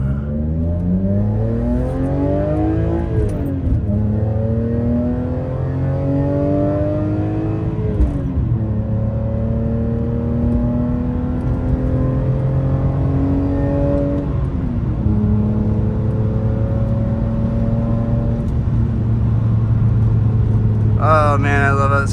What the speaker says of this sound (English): Oh man, I love how this car sounds.